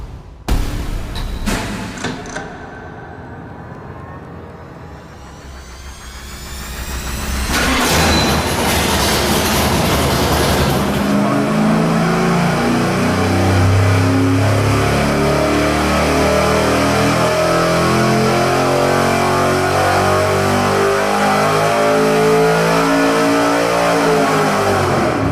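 A V8 engine fitted with a roller cam revs hard on a dyno: a loud, sustained roar that builds after several seconds and holds at high rpm to the end.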